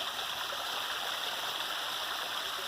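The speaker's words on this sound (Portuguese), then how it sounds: "Fica com esse som dessa cachoeira maravilhosa aqui, ó." Small waterfall with little water flowing inside a city, a close, steady rushing hiss that stays constant throughout, with no talking.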